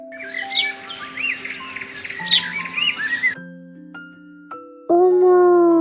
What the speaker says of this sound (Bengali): ঘুঘু পাখি ডাকছে ডালে।